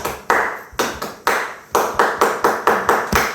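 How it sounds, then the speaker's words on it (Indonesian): A group at a school in-house training session does the Pramuka scout clap, a loud, close series of about eleven sharp claps in a rhythmic pattern with brief gaps between clusters. "ketika saya katakan konsentrasi, dorong langsung bertepuk dengan tepuk pramuka"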